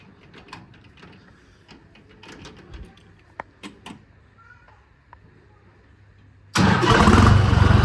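Quiet clicks and faint handling noises, then a tractor engine cranks and roars to life abruptly, running loud and rough to the end.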